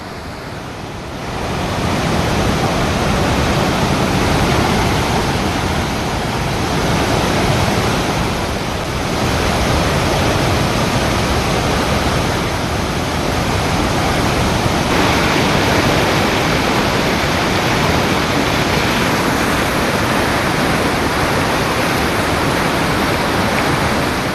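Bogatha waterfall in flood after heavy rains, a loud, continuous broadband roar of rushing water that holds steady throughout with no voices.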